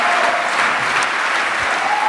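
A full hall at an award ceremony gives steady, loud applause, a continuous dense wash of many hands clapping, with a faint tone running through it.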